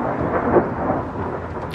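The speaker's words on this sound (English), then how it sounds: "Yeah, it's thunder." Heavy thunder rumbles loudly and continuously outdoors during stormy weather, a deep sustained roll with rain in the background.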